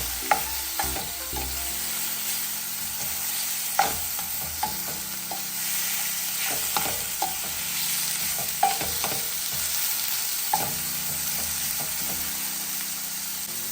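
Sirloin steak searing in butter in a hot pan, a steady close sizzle and crackle with scattered spatula scrapes and clinks as the meat is moved around.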